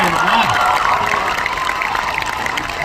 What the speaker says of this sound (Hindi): सबसे ज्यादा तालियां और आवाज लड़कियों की तरफ से आ रही है।